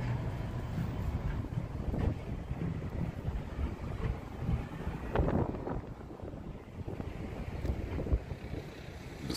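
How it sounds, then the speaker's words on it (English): Steady wind buffeting the microphone outdoors in Las Vegas, a constant low roar with gusts swelling and easing, no voices. "A little windy too."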